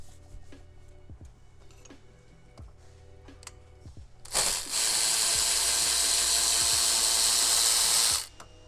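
Ratchet wrench clicking on 13 millimeter bolts of a turbo bracket during a Gen 1 Chevrolet Sonic/Cruze Z04 turbo install, a steady run of fast ratcheting for about four seconds after quiet shop background with scattered clicks.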